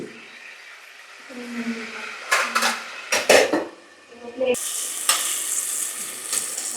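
A lid is set onto a cooking pot with a few clanks of metal over soft sizzling as tomatoes simmer, then a louder frying hiss continues after the pot is covered.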